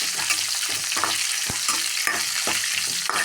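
Finely chopped shallots frying in a pan, a dense continuous sizzle broken by regular scraping stirs about every half second, close and loud with no voices.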